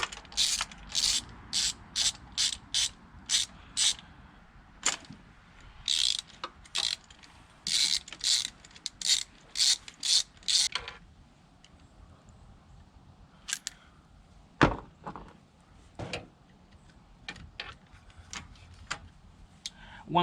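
Ratchet wrench clicking in quick bursts while breaking spark plugs loose on a 4.6L DOHC V8 (Mercury Marauder, Mustang Mach 1), followed by sparser clicks and small metallic knocks, close and fairly loud.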